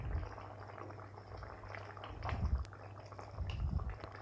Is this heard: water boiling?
yes